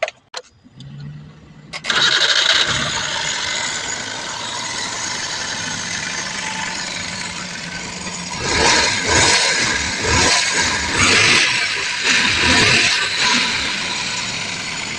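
Suzuki Multicab DA64 with a low-power misfire fault, cranking with a few clicks and then catching, followed by a steady rough idle, close and loud, with brief rises in engine speed near the end.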